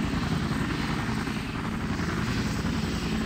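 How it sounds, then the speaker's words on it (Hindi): Helicopter flying in the Minecraft video game, a steady, loud rotor chop with engine whine that holds constant and fills the whole moment on its own. "ये आवाज भी बहुत कर रहा है गाइस"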